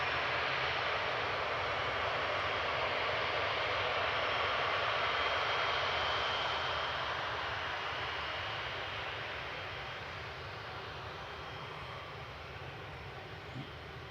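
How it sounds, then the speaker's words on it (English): An Airbus A350-900 jet airliner departs Manchester Airport, a steady broad engine roar at some distance that holds loud for several seconds, then slowly fades. "A350-900 departing."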